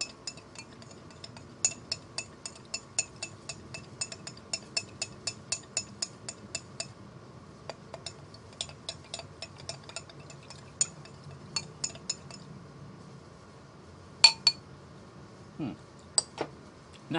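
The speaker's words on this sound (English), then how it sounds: "Then you mix it up so that the sugar dissolves in the whiskey as best as possible." A spoon clinks repeatedly against a glass while stirring whiskey and sugar for a New Orleans-style house cocktail, with quick rhythmic taps that slow to a few scattered louder clinks, close up over faint room noise.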